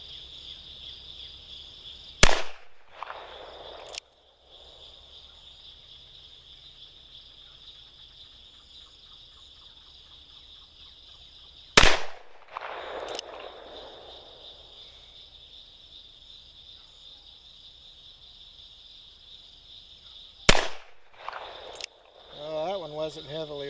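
Three sharp, loud gunshots from a Ruger Blackhawk .357 Magnum revolver fired one-handed, each a sudden crack that rings out and decays, spaced several seconds apart over a steady outdoor insect drone.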